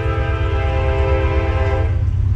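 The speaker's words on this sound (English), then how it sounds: "I hear that train coming." A passing train sounds a sustained horn, a loud, steady harmonic blast over a deep rolling rumble that fades out near the end while the rumble continues.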